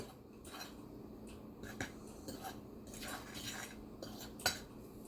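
A utensil stirs basil into food in a bowl, a quiet run of clinks and scrapes against the dish with a few sharper taps, close by and with no talking.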